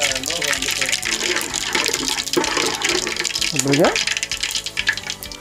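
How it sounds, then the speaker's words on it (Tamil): Loud, dense crackling and sizzling of mustard seeds spluttering in hot oil, continuous and close, with a brief voice-like tone rising in the middle. "நல்லா அது கடுகுடைய வெடிப்பு சத்தம் குறையணும்."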